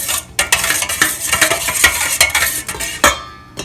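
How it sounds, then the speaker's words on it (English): Yogurt is whisked in a bowl in quick rhythmic strokes, the utensil scraping and clicking against the sides in a dense run of sharp, close knocks. "Now I'm going to whisk it to make it smooth."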